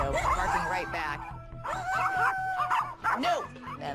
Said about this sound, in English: Until we passed a house with a dog. Yep, there it goes.